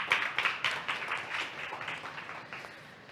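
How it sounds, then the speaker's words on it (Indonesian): A small indoor audience at a food and beverage business talk claps for a speaker, with quick uneven hand claps that start firm and gradually thin out and fade. "Tepuk tangan."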